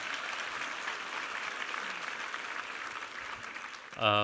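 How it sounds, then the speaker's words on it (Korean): A Korean church congregation at a Christmas Sunday service claps in a thick, steady wash of applause, cut off at the end by a sudden tonal voice or music. "우리 하나님께 감사와 영광의 박수 올려드리겠습니다"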